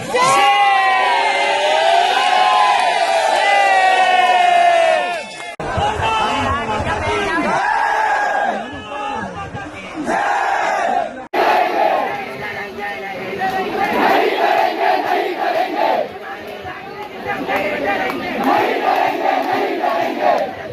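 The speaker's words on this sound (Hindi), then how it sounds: "जंतर मंतर पर हजारों की भीड़ इकट्ठा हुई" A large protest crowd at Jantar Mantar shouts and cheers loudly and continuously, with chanting voices and general babble swelling across the whole stretch in several distinct segments.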